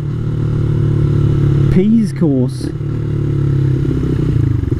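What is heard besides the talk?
motorcycle riding on errands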